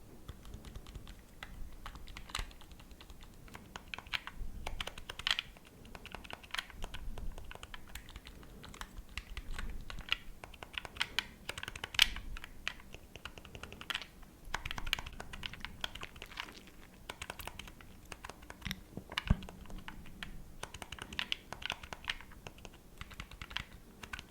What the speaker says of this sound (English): Let's check the D-pad on the two controllers. This one is the PlayStation D-pad is very quiet.